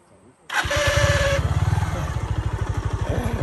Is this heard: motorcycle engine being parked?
yes